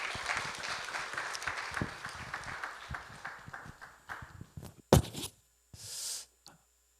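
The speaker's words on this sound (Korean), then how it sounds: "큰 박수로 맞아주시기 바랍니다." Audience applause at a district real estate tax briefing as the district mayor arrives, a moderate round of clapping that thins into scattered claps and dies away, followed by a few isolated knocks and a short hiss.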